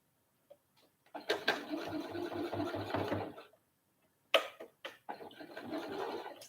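A domestic sewing machine runs in two bursts, about two seconds and then about one and a half, stitching a back stitch through bulky fabric, with light handling clicks and taps in the pauses.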